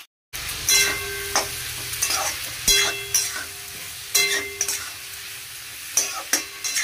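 Cauliflower and potato curry stirred in a pan, with a spoon scraping in repeated strokes over a steady low sizzle, close and moderately loud with no talking.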